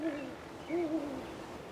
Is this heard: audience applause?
no